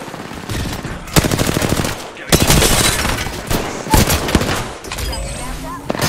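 Bursts of rapid automatic gunfire in a combat game, several loud, close rattling volleys separated by short gaps, with some crackling between them.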